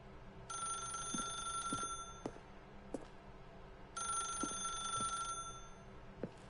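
Telephone ringing in The Stanley Parable video game, two bursts of a bright electronic bell trill separated by a pause, fairly quiet and clear with no talk.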